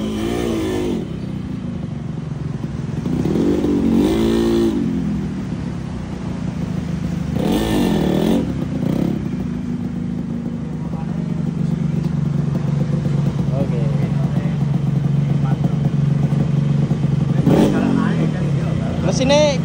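A motorcycle engine with a ported cylinder block revs repeatedly, surging in short bursts over a steady idle, with voices talking over it close by.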